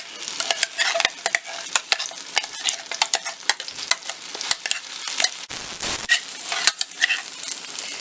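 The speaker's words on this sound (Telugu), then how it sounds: "ముందుగా పేస్ట్ చేసుకున్న ఆనియన్, టమాటా వేసుకొని ఒక 1 మినిట్ ఫ్రై చేసుకోవాలి" Onion and tomato paste fries in melted butter while a spoon stirs it, giving a steady close sizzle broken by frequent scraping and clinking strokes for about eight seconds, with no one talking.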